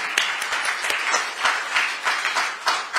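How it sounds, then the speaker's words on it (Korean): Audience applause at a Democratic Party (민주당) event in Korea, a steady wash of many hands clapping for about three seconds with no speech over it. "네, 다시 한번 박수 부탁드립니다."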